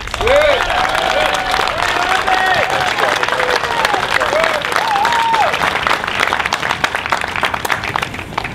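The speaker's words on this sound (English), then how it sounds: "a big round of applause for Ovide Lamontagne" A crowd at a Tea Party political event in New Hampshire applauds a candidate. Loud, sustained clapping and cheering fills the space throughout, with voices shouting over it.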